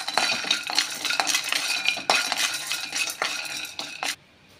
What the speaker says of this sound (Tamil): ஆயில் வறுக்க வேண்டாம், சும்மா ட்ரை பேன்லேயே நம்ம வறுத்துக்கிட்டால் போதும்.